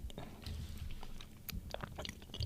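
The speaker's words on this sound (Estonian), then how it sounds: "ma pean selle šokolaadi ära sööma" Someone bites and chews Porsche-branded chocolate close to the microphone, with irregular crunchy snaps and soft mouth sounds over a low room background and no talk.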